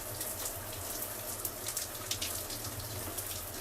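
Water runs steadily while hair is rinsed during a wash day, a continuous close splashing with small irregular spatters.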